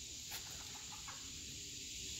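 Backyard chickens cluck at feeding time, a few soft, short clucks from a rooster and hens under steady high-pitched outdoor hiss, with no talking.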